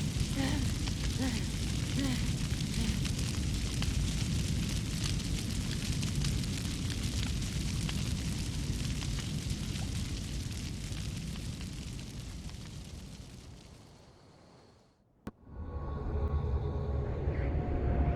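In Assassin's Creed Valhalla, flames roar loudly and closely for most of the stretch, a dense rumbling crackle under a brief line of dialogue, before fading and cutting out abruptly, then resuming more quietly.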